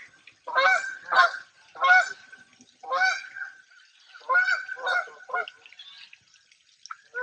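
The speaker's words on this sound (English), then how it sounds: "Look, that's a huge flock." A huge flock of migrating geese honks overhead near ponds, giving repeated loud, clear honking calls in irregular bursts with short pauses between them.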